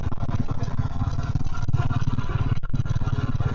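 A 2006 vintage Royal Enfield Bullet motorcycle riding at an easy pace, its steady thumping single-cylinder engine loud and continuous throughout.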